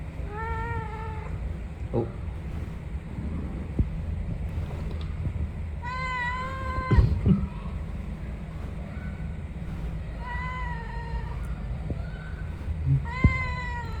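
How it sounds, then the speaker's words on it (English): A cat meows repeatedly, with several drawn-out, wavering calls spaced a few seconds apart. The calls sit close to the microphone over a constant rumbling background noise and occasional soft knocks. "He meowed a lot more this time."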